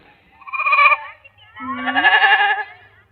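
Two bleats from goats in a Tamil comedy film scene: a shorter one, then a longer, wavering one after a brief pause, close and fairly loud with no talk.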